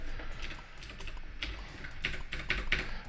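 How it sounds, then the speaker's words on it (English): Keys clack on an Atari 8-bit computer keyboard as the arrow keys are tapped, a close run of irregular light clicks with a few sharper strikes toward the end, no voices. "I can use the arrow keys to come back"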